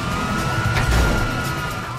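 Police car sirens in the video game GTA 5 wail loudly and continuously over engine and traffic rumble, holding a steady pitch throughout.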